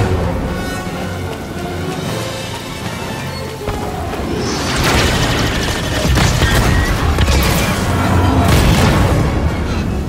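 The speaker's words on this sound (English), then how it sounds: "He shot the coupling out." A train coupling shot apart in the Star Wars Jedi: Fallen Order video game, a heavy booming blast and crash that swells midway and rumbles on under clattering, rain-like debris noise, loud and close.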